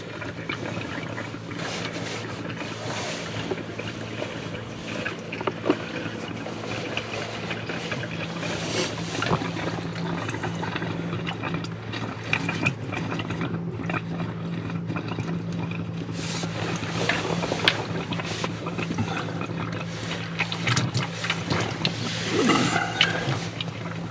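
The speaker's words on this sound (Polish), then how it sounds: "Chwilę zejdzie, bo cały boiler musi się napełnić." Steady rushing and trickling water runs continuously as it fills a trailer boiler, a low hum beneath it, with small clanks and knocks scattered throughout.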